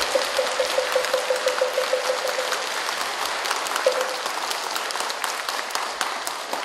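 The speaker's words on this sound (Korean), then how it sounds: "감사와 축하 마음을 담아 큰 박수를" Sustained, dense audience applause fills a Buddhist Buddha-statue consecration ceremony, with a short run of regular tapping tones heard early on under the clapping.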